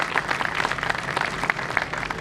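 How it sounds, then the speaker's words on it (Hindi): Audience at a poetry gathering claps steadily, a dense, moderately loud patter of many hands throughout the short burst. "तालियां हो जाए।"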